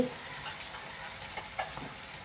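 Ginger garlic paste frying in a pan for chicken gravy, a faint continuous sizzle with a couple of soft stirring taps.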